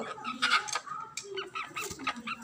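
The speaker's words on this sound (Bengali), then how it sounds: "মুরগিটা খুব আওয়াজ করছিল" A hen that has just laid an egg clucks repeatedly in short, uneven bursts, fairly close and moderately quiet.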